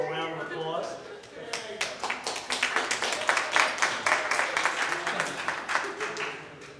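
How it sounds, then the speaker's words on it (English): Scattered clapping from a small group, uneven and close, with voices and cheering mixed in over several seconds. "Give them a little round of applause."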